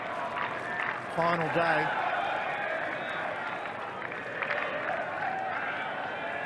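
A cricket crowd murmurs steadily at Adelaide Oval on the final day of an Ashes Test, a broad, distant hum with small swells. A commentator speaks over it.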